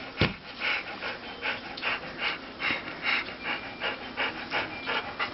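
Puppies pant close by in quick, steady bursts of breathy huffs, soft and repetitive, with no talk.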